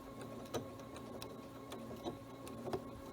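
A sewing machine stitching in the ditch along a quilt's binding runs quietly with a low hum, marked by a few soft mechanical clicks spaced unevenly across the stretch.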